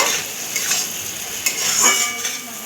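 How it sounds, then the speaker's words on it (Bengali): Fried potatoes are stirred into a spice paste in a pan, a loud close sizzle with scraping strokes and light clinks of a utensil against metal. "2-3 মিনিট এটাকে নাড়িয়ে নেবো, একটু মশলার সাথে মিলিয়ে নেব।"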